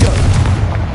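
Confringo blasting spell going off in Hogwarts Legacy, a loud, close, booming explosion with a heavy low rumble that starts at full force and tails off over about a second.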